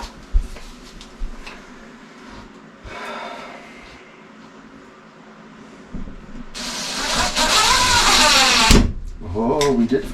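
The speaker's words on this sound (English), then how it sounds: "Let's drive a couple screws and see." A power drill drives screws into a wall during a dryer vent install: a loud whirring burst of about two seconds rises after some talk and light clatter, then a shorter spin follows.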